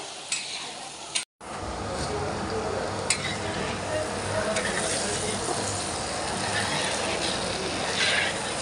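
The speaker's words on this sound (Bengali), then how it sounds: "গাজর বিন সব ভাজা হচ্ছে" Carrots, beans, potatoes and onions frying together in a pan for chow mein, a steady loud sizzle with scattered stirring clatters, close up, briefly cutting out near the start.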